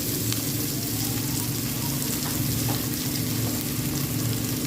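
Pancit stir-frying in a pan with garlic, onion and fried pork, a steady close sizzle and crackle of frying with faint stirring scrapes, no voices.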